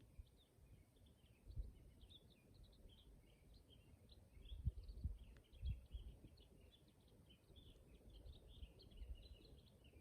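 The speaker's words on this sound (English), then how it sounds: "Hear the birds chirping." Scattered bird chirps and tweets in a quiet mountain outdoor setting, faint and distant, repeating irregularly over a soft background hush.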